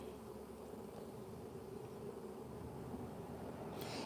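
A honey bee swarm high in a tree gives a faint, steady, even buzzing drone with no break.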